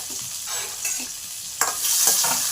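Chopped tomatoes fry in oil in a pan for a chutney, a soft close sizzle broken by scraping stirs, with a louder hiss surging up near the end.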